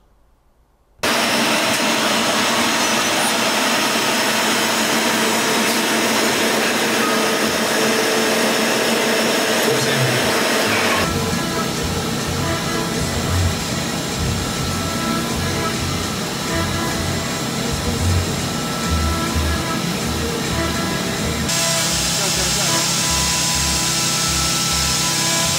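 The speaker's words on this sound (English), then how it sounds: "machining the end cap from a solid billet of aluminium, I think it took about 8 hours" A CNC machine mills a solid aluminium billet into an exhaust end cap, with a loud, continuous high-pitched cutting whine and spindle noise that shifts in tone partway through and gains a rhythmic low pulsing.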